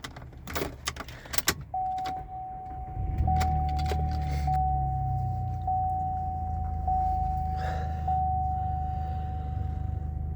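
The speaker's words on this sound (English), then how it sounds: "let's turn on the car" A 2019 Chevy Colorado is started: a few clicks and rustles come first, then the engine catches and settles into a low steady idle while a repeating electronic chime sounds at regular intervals.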